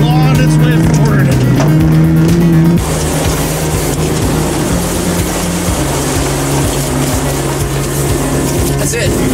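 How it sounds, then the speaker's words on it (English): A Honda Fit rallycross car in a racing video game revs hard, its engine note climbing and shifting through gears with loud, continuous droning and gritty tire noise, while a person talks over the gameplay. "Car's just clawing its way forward."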